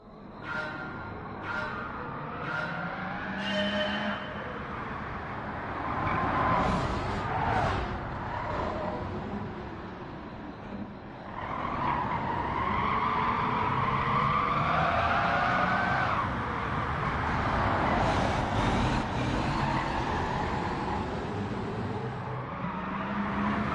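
A Corvette CX hypercar in Gran Turismo 7 roars continuously through a time trial run, engine revving up and down with bursts of tire squeal and skidding, loud and sustained throughout with no talking.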